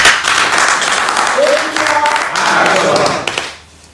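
Loud applause from a crowd at a live Nigerian election campaign event, a thick roar of clapping with some voices and cheers inside it, sustained before dropping away sharply near the end.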